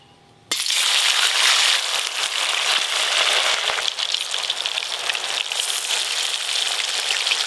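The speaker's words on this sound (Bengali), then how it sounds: "এই বড়াগুলো ভেজে নেব।" Prawn fritters drop into hot mustard oil and burst into a loud, dense, continuous sizzle that starts abruptly after a quiet moment and holds steady close up.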